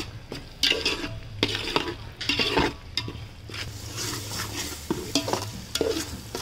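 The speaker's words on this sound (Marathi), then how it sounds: "कांदा खोबऱ्याची पेस्ट व्यवस्थित मिक्स करून घ्यायचे थोडासा लिंबू पिळायचा आहे छान हलवून घ्यायचं" A spoon stirs a paste of onion and coconut masala in a pan over a wood-fired stove, with repeated scraping knocks against the metal over a soft sizzle.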